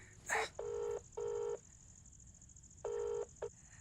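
Telephone keypad dialing tones: a sharp click, then three steady two-tone beeps of about half a second each with a short blip after, clear and close with no talking.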